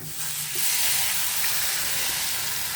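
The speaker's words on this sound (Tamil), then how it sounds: "இப்போ நம்ம அடித்து வச்சுருக்க முட்டையை அதில் ஊற்றிடுவோம்." Beaten egg hits a hot pan and sizzles in a soft, steady hiss, quiet and close, with no voices.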